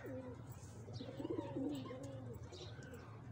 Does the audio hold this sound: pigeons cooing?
yes